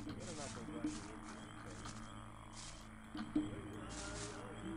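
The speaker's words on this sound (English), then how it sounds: "how do you get to sleep with all these noises? The frogs." Frogs croaking in a swamp in the video game Gothic, repeated low croaks over a droning ambient bed with intermittent buzzing insect-like bursts.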